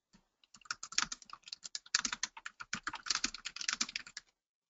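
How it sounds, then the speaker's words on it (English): Fast, irregular typing on a computer keyboard during a webinar: a steady run of close, crisp key clicks lasting several seconds with no talking. "You can hear me type"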